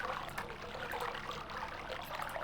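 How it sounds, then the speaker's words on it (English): Babbling brook in the video game Myst: Masterpiece Edition, a soft continuous trickle and splash of running water, steady and fairly quiet, alone without talk. "Babbling brook."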